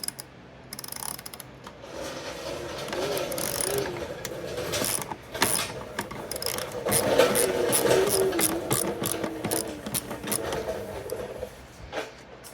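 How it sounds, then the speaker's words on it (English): Ratcheting wrench work pulling 10 mm bolts during an LED headlight install on a 2001 Chevrolet Corvette C5, with repeated clicking and metallic rattling at close range and low background noise throughout. "Taking these bolts out, buddy."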